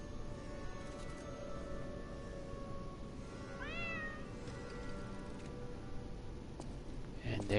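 A cat in the video game Lies of P gives one short meow partway through, a brief rising-and-falling call over steady low ambient game noise and music.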